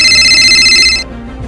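A telephone rings while a call is being placed. A bright, steady electronic ringing tone sounds close and loud for about a second, then cuts off abruptly into quiet room noise.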